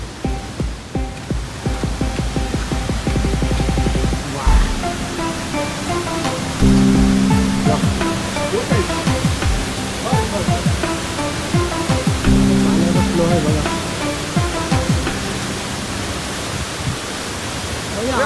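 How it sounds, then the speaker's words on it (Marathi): A monsoon waterfall near Rudreshwar temple in Goa roars with steady, dense rushing water, loud and close, with sustained tonal sounds running over the constant wash. "हा जो पाणी पडते बघू शकता आपण"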